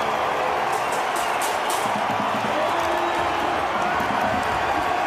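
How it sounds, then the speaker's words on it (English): A packed stadium crowd at an NRL finals match in Canberra roars continuously, a dense wall of cheering and noise sustained at full volume throughout. "Let's just listen to this crowd just for a moment."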